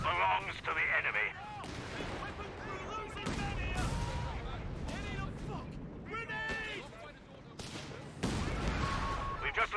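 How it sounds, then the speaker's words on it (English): Howitzer artillery fires in Company of Heroes 3, a World War II strategy game, with repeated booming shots and crackling gunfire under steady, close narration throughout. "now it's howitzer time. Shells will decimate"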